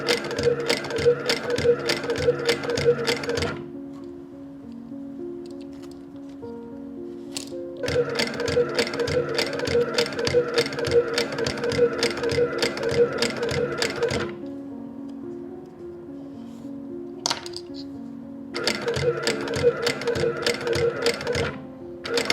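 Sewing machine stitching sections of a leather tote bag together, running in three long steady bursts of rapid mechanical needle chatter, separated by quiet pauses with a couple of brief clicks.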